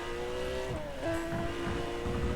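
A Porsche 918 RSR race car in Need For Speed World revs with a steady engine drone, pitch rising and shifting as it accelerates, with tire noise underneath.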